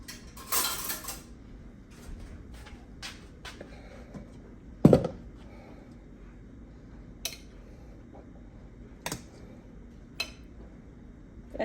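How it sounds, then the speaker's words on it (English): A metal spoon picked up among pots and dishes in a home kitchen while cooking cube steak and rice: scattered light clinks and clatters, one sharper knock, otherwise quiet. "Let me get this spoon."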